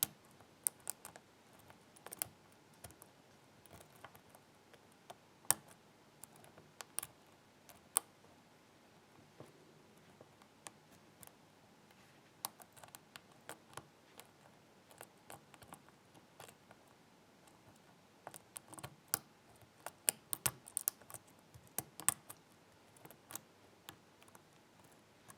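A Schlage Primus lock is picked pin by pin with tiny, faint metallic ticks and clicks scattered irregularly over a quiet background, close to the lock, with brief clusters of activity and no voice.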